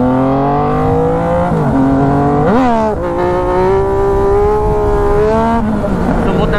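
A Yamaha MT-09 motorcycle engine, ridden in heavy traffic, hums loud and close with harmonic tones that rise and fall through several revs and shifts, with speech faintly underneath.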